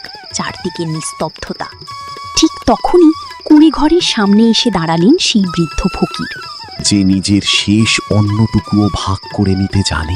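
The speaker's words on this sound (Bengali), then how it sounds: "বাইরে ঝিঝি পোকার ডাক," Cartoon crickets chirp at night as a thin, unbroken high trill that runs behind a narrator's continuous storytelling.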